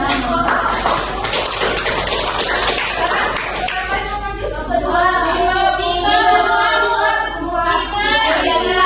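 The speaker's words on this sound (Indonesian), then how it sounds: "Oke, tepuk tangan" Classroom applause during a microteaching session on economics: a burst of brisk clapping over the first few seconds gives way to a speaking voice that carries on alone.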